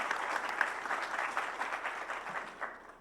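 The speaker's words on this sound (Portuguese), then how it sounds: "Salva de palmas aí para todos os participantes," An audience at a talk on the future of cities applauds all the participants, a steady round of clapping that thins slightly toward the end.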